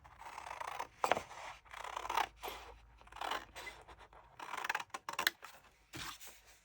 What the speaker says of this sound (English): We'll just go ahead and cut one going this way.